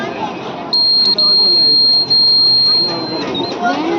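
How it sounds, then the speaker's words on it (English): A laser security alarm emits a steady high-pitched electronic tone for about two seconds, with a short blip before it, over a noisy room full of chatter at a student exhibition. "What is this? Laser security alarm."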